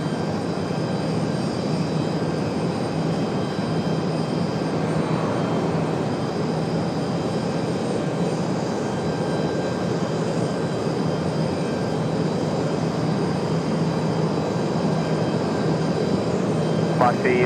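An airliner rolls for takeoff on runway 23 left at Raleigh-Durham International Airport, a steady broad engine roar holding evenly throughout at moderate distance, with radio voices talking over it.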